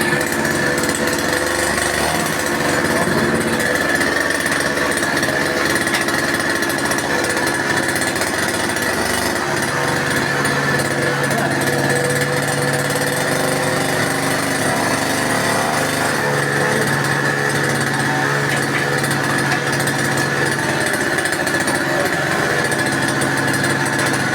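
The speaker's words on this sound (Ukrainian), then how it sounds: "На моторі з кусарки." A homemade mini tractor powered by a petrol brush cutter engine runs loudly and continuously at close range, with a buzzing two-stroke drone whose pitch rises and falls slightly as it works.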